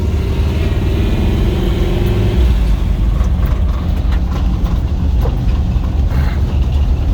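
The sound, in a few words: 1979 Chevy K5 Blazer 4-speed truck taking off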